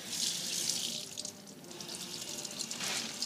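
Water from a tap splashes while a paint palette is rinsed beneath it, a close, hissing wash that swells and dips as the stream strikes the surface, with no voices.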